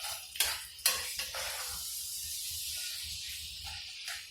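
Fresh shrimp browning in a hot pan for fried rice, with a steady close hissing sizzle and a few sharp metallic scrapes and clinks near the start.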